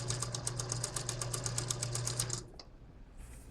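A sewing machine runs a fast, even stitch along a shirt placket for about two and a half seconds, rapid clicks in tight rhythm, then halts, leaving a brief quiet handling sound.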